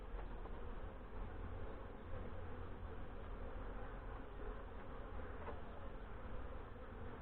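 Honey bees from a swarm hive drone in a faint, continuous buzz during a hive and nuc check, with no voices over it.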